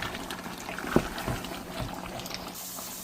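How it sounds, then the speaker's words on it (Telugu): Water is poured into a pot of spicy homemade country chicken curry. It makes soft splashing and faint bubbling, quiet and brief, with a few small splashes standing out. "ఇప్పుడు వాటర్ పోయాలి, పులుసు కదా వాటర్ కావాలి."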